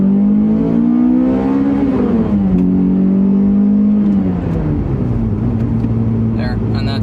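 A Toyota Matrix XRS engine revs loudly while accelerating through the gears, its pitch climbing, dropping at a shift and climbing again, close and continuous throughout.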